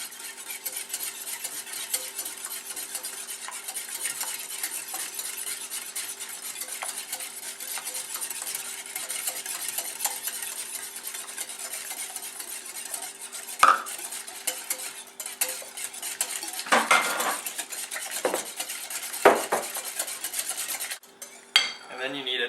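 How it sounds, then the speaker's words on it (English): White sugar being stirred into a bread pudding mixture in a bowl, a steady soft scraping and swishing of a utensil that carries on throughout, with a few louder clinks and knocks near the end. "I would stir as you mix this in."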